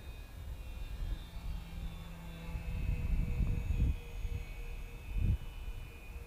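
Twin electric motors on a cheap Lidl foam RC glider run at full throttle during a steep climb, a steady whining drone with a brief louder swell near the end, heard from the ground with wind buffeting.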